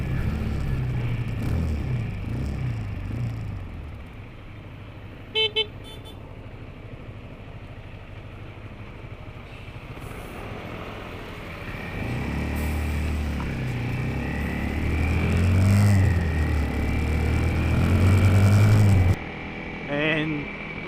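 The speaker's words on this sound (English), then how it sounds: "Don't know how those two trucks are going to pass though." Trucks grind along a winding mountain road in Vietnam, their low engine rumble building and swelling nearby before dropping away, with people talking over it.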